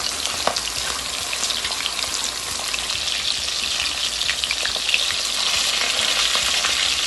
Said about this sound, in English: And you want to cook that fish dry